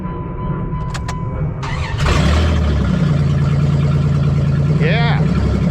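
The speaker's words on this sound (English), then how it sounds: "it's going to be dwarfed in comparison to the roar that comes out from under my fucking hood" A car engine starts after a motor transplant and settles into a loud, steady exhaust roar with a deep rumbling idle, preceded by brief beeps and clicks, and a short rising rev near the end.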